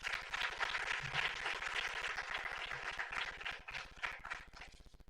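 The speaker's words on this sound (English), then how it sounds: "Distinguished guests, a warm welcome and round of applause for Dr. Motobi as he comes to stage to take" An audience at a Bank of Botswana monetary policy statement launch applauds, a dense steady patter of many hands clapping that softens slightly midway and thins toward the end.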